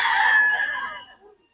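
A young stag chicken crows once, a single loud nearby cock-a-doodle-doo that rises, holds and trails off over about a second, with a few soft clucks after.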